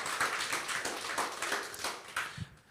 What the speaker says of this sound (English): Let's give a round of applause, big one, for Professor Kishore Mahbubani.